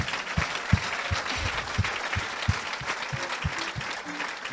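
An audience at a church healing testimony claps and cheers, a dense, lively wash of applause that holds steady for several seconds, with some loud individual claps standing out.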